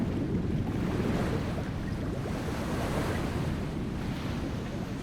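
Turbulent water churns and swirls beneath a waterfall on Jeju Island, a steady, dense rushing roar that stays loud and unbroken throughout with no voices.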